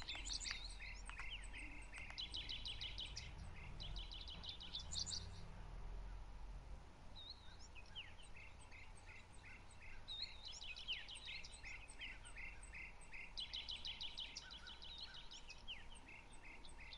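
Birds chirp in a wild turkey hunting video game, with repeated quick trilling phrases coming and going over a steady outdoor bed of insect-like hiss.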